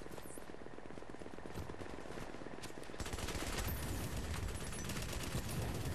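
Light machine gun fire in The Division video game: rapid sustained automatic bursts that grow denser and louder halfway through, continuous with no pauses.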